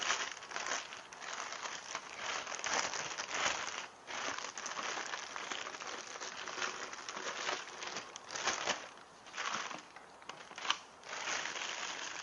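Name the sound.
plastic vinyl cover being peeled off a water machine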